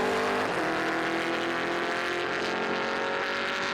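A Chevy Camaro race car at a Trans Am road race in Portland, with a loud, sustained engine roar from close by that stays steady and broad throughout.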